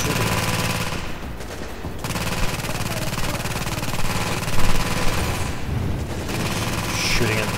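Continuous gunfire on a PUBG test server, with dense shots and bursts rattling under steady game noise, mostly close and loud, and a voice talking over parts of it.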